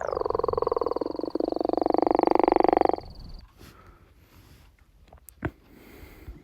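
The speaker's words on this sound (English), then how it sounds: "Green frogs. This is the one I've seen around my pond before." A green frog calling close by: a loud, rapidly pulsed croaking trill lasting about three seconds, followed by quiet rustling and a couple of soft knocks.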